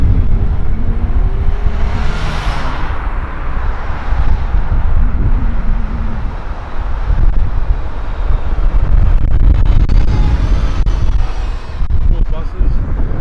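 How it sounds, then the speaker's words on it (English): Buses and cars pass along a windy street in Hollywood, Florida, a continuous low traffic roar with one vehicle swelling past near the start, blended with wind rumble on the microphone, no talking. "Cool buses."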